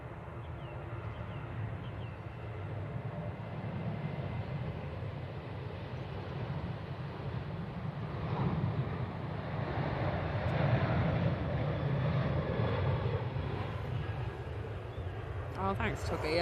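A Ryanair Boeing 737 bound for Madrid takes off from Manchester Airport, a low engine rumble swelling and fading at a distance beneath wind noise and voices talking.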